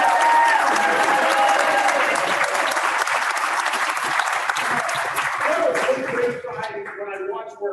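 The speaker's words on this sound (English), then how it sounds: "Let's give them all a big round of applause." Sustained applause from an audience at a ski resort's 65th anniversary celebration, loud dense clapping that fills the clip and thins out toward the end, with a few voices cheering over it.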